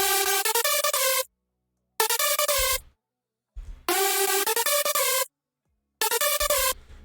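Hardstyle synth lead and chords processed through a patcher preset, bright, harmonically rich sustained stabs in short rhythmic phrases, with abrupt cuts to silence between four separate bursts.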